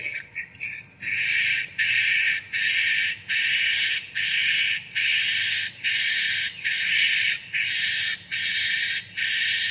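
Recorded swiftlet mating call, the PJW birahi lure sound, a loud high-pitched chirping trill repeated in about a dozen even bursts with short gaps between them, close and alone.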